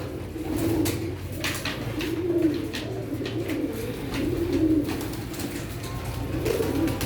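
Pigeons, including Teddy pigeons, kept in pairs on a home rooftop coo repeatedly in low, throaty rolling phrases, several birds overlapping in close, steady calls with faint chirps and background hiss, no talking.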